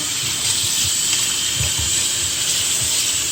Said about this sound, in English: you just want to rinse your lettuce properly on the running water